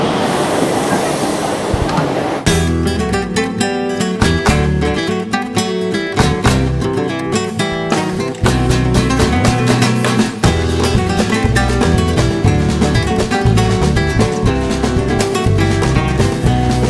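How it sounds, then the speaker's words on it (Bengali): A Medinipur-to-Howrah local train pulls into a railway station, a loud continuous rumble of wheels and carriages rolling close by, with rhythmic clatter and metallic clanks running throughout. "এখন ট্রেন ঢুকছে মেদিনীপুর থেকে হাওড়াগামী একটা লোকাল আছে"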